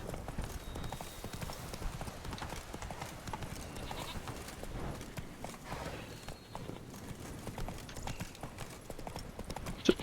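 Roach, the horse in The Witcher 3: Blood and Wine, gallops with rapid, steady hoofbeats throughout, fairly close, with faint voices occasionally in the background.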